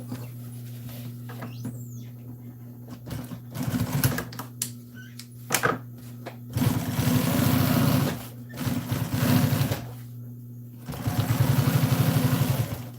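Sewing machine stitching a cover for an exhaust fan, running in several bursts of rapid mechanical chatter separated by pauses, with clicks and handling noises between runs and a steady hum underneath.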